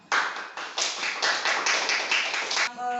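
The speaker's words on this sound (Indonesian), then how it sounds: "Tepuk tangan buat kita semua" A classroom of students claps in a rhythmic pattern, close and loud, in about eleven sharp strokes over two and a half seconds before it stops abruptly.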